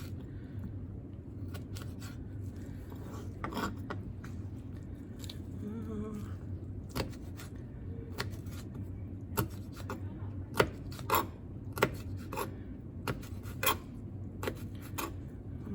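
A small kitchen knife cutting while making empanadas gives scattered, faint, uneven clicks and taps over a low background hum, growing slightly more frequent toward the end.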